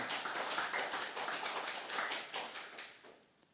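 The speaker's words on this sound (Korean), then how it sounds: "뜨겁게 하나님께 감사의 박수를 치기 바랍니다" Church congregation clapping in thanks to God, a dense, fairly even patter of many hands that swells and then tapers off near the end, with no talking over it.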